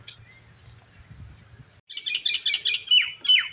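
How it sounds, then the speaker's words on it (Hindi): A myna bird calling in a park, with a few faint chirps and low background rumble at first, then a close run of sharp, repeated chirping notes and squeaky calls. "ये मैना भी आप देख सकते हैं वहाँ पे बैठी हुई है"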